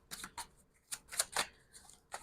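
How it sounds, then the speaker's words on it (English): Tarot cards being shuffled by hand, several short, crisp riffling bursts close by and irregularly spaced, with quiet gaps between them. "Angel, I want to shuffle again."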